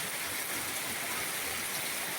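Floodwater rushes in a continuous, dense hiss during an evening flood in Southern Leyte, loud and unbroken with no voices.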